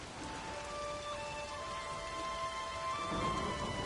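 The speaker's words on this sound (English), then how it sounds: "About the storm." A steady, dense rain downpour in a stormy coastal setting in Witcher 3, a continuous hiss of falling water with a low rumble swelling near the end, no voices.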